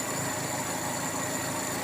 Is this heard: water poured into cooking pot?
no